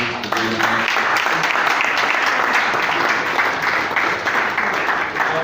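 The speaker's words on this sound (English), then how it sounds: "I thought that those in this gathering will put their hands together." A crowd at a Nigerian Society of Engineers gathering in Rivers State claps together in a full, continuous burst of applause that stays loud and dense from start to finish, with a faint voice briefly at the opening.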